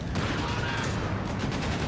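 Company of Heroes 3 battle with .30 cal machine guns firing: dense, rapid gunfire bursts and crackling shots overlapping in a chaotic fight, loud and close, with no voices heard.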